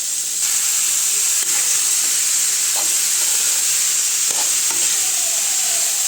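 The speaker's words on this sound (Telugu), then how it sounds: "ఈక్వల్‌గా మిక్స్ చేసుకొని 4-5 మినిట్స్ ఫ్రై అవ్వనిద్దామండి" Beetroot and moong dal curry frying in an open pan, giving off a loud, steady, close sizzle and hiss that runs unbroken throughout with no voices.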